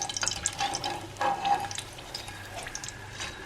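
Steady crackling and spitting of homemade fries deep frying in plenty of hot oil, close up, with a few brighter pops and no talking.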